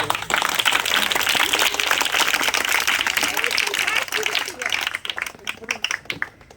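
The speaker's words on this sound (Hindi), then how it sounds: "कम से कम ताली बजा के" Crowd clapping at a village birthday celebration for Modi in Atimi, dense and steady for about four seconds, then thinning into scattered claps as it fades.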